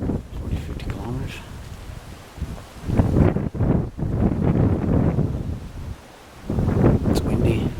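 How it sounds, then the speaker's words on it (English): Wind gusts at a campsite in the mountains, a steady rushing broadband roar that drops out briefly twice and then returns, with voices talking over it. "It's windy. Wind's picking up."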